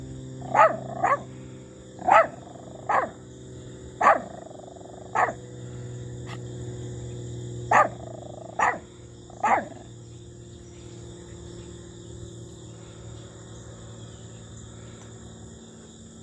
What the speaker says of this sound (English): You're barking for no reason.